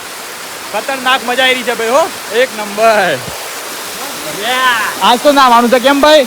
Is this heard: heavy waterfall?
yes